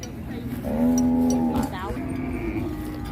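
A single cow lets out a loud, close, drawn-out moo that swells and drops off, with a quieter lowing after it, amid the murmur of a Thai livestock market at Nong Kung, Maha Sarakham.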